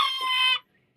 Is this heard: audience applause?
no